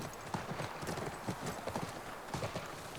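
Horse hooves in The Last of Us Part 1 on PS5 clop in a quick, regular trotting rhythm, fairly close and steady over a soft background hiss.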